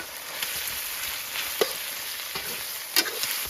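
Pork stir-fried in a wok with chili paste, ginger, garlic and chili powder, giving a steady soft sizzle broken by scattered scrapes and clinks of the spatula, close and fairly quiet, with no talking.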